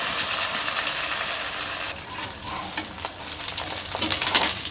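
Vadas (fritters) for kochur shukto fry in hot oil, a dense crackling sizzle with a few scraping turns and clatters near the end, close up with no talk.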